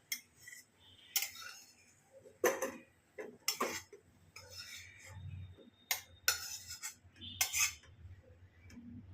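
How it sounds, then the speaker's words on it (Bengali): Metal spoon clinks and scrapes against a pot and serving dish as jeera aloo, cumin-spiced potatoes, is tipped out, a dozen sharp knocks in irregular bursts, close and clear. "এবার এটা আমি ঢেলে নেব অন্য পাত্রে"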